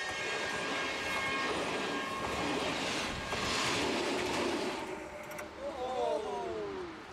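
A test rail car on the Qinghai-Tibet Railway rumbles steadily across a steel bridge with a broad clattering roar, and a horn sounds near the end.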